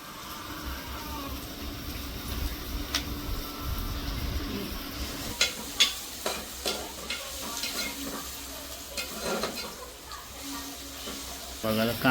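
Onion cooking down in a pan for an oyster dish, with chilli and tomato set aside, stirred now and then: steady close sizzle broken by sharp scraping clatters and utensil knocks, while a voice talks over the cooking.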